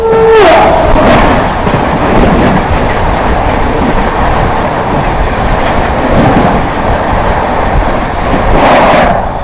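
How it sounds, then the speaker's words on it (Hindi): The New Delhi–Howrah Purva Express rushes past at speed, a loud continuous roar of rail wagons with rhythmic clickety-clack of wheels and a brief horn-like tone at the start, heard close from a moving train. "सामने से आ रही है न्यू दिल्ली हावड़ा पूर्वा एक्सप्रेस वाया गया"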